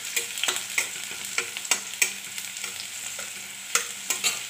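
Crushed garlic sizzles in hot oil with browned onion, a busy, close crackle broken by repeated sharp scrapes and taps of stirring, with no voices.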